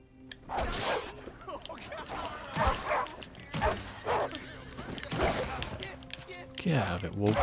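Wolf barking and whimpering in the video game Red Dead Redemption 2, several sharp close barks and yips repeating roughly every second, mixed with soft whines.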